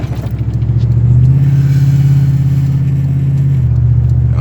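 A Dodge Ram 1500 pickup truck cruises along, its engine a close, loud low rumble that swells briefly as it pulls and then settles into a steady drone.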